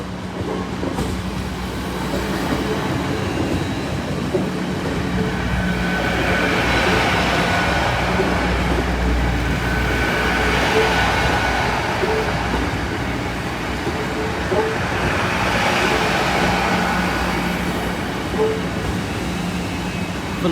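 A train rolls steadily past the Brayford level crossing, its wagons rumbling and clacking over the rails for a long, continuous pass. The noise swells and eases in broad waves with a faint wheel squeal, close and loud throughout.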